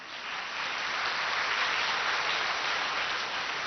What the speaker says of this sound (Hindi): भले ताली बजाओ